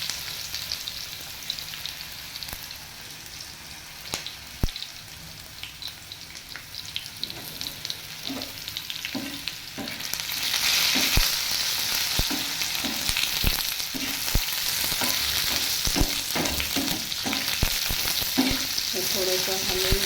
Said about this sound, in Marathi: जिरे टाकल्यानंतर जे बटाटा आणि वांगे चिरले होते ते टाकूया.